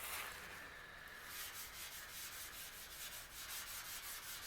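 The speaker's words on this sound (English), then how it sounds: "I'm just doing dry steel wool because the rest of this is just very light dirt" Dry steel wool rubbing over a chrome bumper on an old barn-find car, a steady close scratchy scrubbing with rhythmic back-and-forth strokes that quicken into regular pulses partway through.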